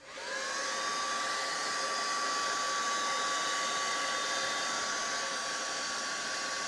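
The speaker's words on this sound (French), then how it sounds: "on va utiliser notre pistolet chauffant" A heat gun blows hot air onto a handmade card, a loud steady whooshing drone with a high motor whine that starts abruptly and holds constant throughout.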